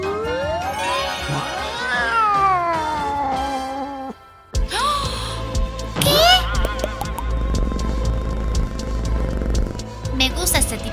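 A cat meows in drawn-out, pitch-gliding calls during the first few seconds, loud and close. After a short gap comes a noisy stretch with voices and other sounds.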